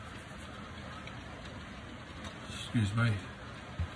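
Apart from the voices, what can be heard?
heavy rain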